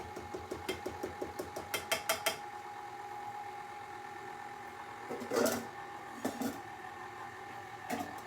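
An electric stand mixer works doughnut dough, its motor whirring steadily with rhythmic knocking pulses and a few louder thumps of the beater against the bowl, with no talking.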